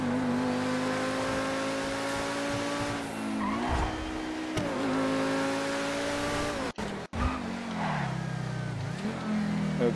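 A Lamborghini supercar in GTA 5 holds a loud, steady engine drone that dips and rises with gear changes, with tire squeal and skidding throughout and two sharp brief cutouts near the end.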